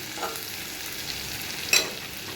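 Onions sprinkled with a little salt fry in a wok with a soft, steady sizzle and hiss, and a brief stirring scrape near the end.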